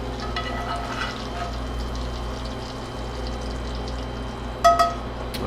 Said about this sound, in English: And we're gonna pour some of that butter on there.